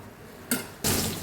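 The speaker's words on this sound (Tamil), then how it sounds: "கொஞ்சோண்டு தண்ணி ஆட் பண்ணிக்கிறேன்." Water poured from a rinsed mixer jar into vegetable curd kurma cooking with coconut paste, two short splashing bursts, close and fairly loud, with quiet kitchen noise between them.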